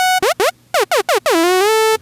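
Serum synth lead with portamento slide, several short notes whose pitch swoops down in laser-like bends, then a longer sustained note gliding upward, loud and alone.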